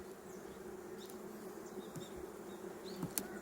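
Honeybees buzzing steadily at an open hive during a late-autumn final inspection before overwintering by a hobby beekeeper, a continuous low drone with occasional sharper passes of individual bees flying close, no talking.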